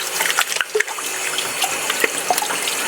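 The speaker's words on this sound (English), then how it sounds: "I'm going to rinse my hands." Running tap water splashes steadily into a sink as hands are rinsed, a close continuous gush broken by small splashes, with no voices.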